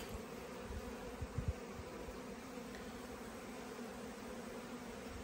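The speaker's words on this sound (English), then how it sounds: "There's an Asian hornet." An Asian hornet buzzes near the bees' nucs, a steady insect drone with a few brief louder passes, over a constant hissing background.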